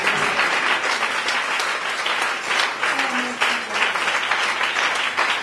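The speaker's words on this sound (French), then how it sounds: "Est-ce que tu peux acclamer Jésus là où tu es?" Church congregation applauding and cheering for Jesus during a French-language sermon, a dense, steady wash of clapping and crowd voices that holds loud throughout.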